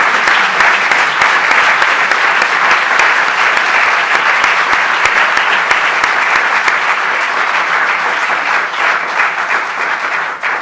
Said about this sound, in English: So let's give our panelists another round of applause.